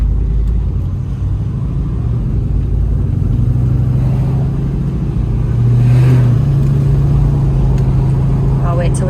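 A 1975 Chevrolet Camaro drives along a road, its engine a steady low rumble with light rises in revs, heard from inside the car over road and wind noise, loud and continuous throughout.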